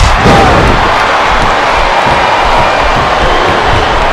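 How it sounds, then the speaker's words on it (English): A large capacity crowd in a wrestling video game roars steadily throughout, a dense wall of cheering and noise with occasional thuds, no clear pauses. "This capacity crowd is making their opinions known tonight."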